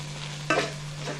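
Chicken pieces briefly stirred in a pan of hot oil for a spaghetti dish, a short scrape-and-sizzle burst over a steady low hum, close and moderately loud.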